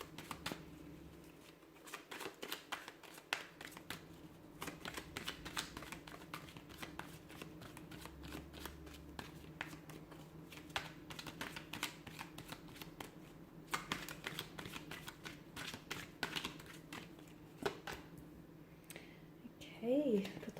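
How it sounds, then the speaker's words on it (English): Tarot cards are shuffled continuously by hand, a soft, rapid stream of riffling and flicking clicks close to the microphone, with a faint voice briefly near the end. "So we'll give the cards a shuffle and see what messages do you need to hear."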